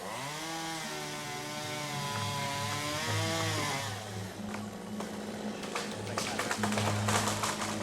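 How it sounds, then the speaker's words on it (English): A big chainsaw runs steadily while trimming a tree's canopy in a forest, its engine droning then revving and dropping in pitch, with cutting noise and crackle as wood gives way toward the end. "we need a big chainsaw. It takes a full day to trim a single tree."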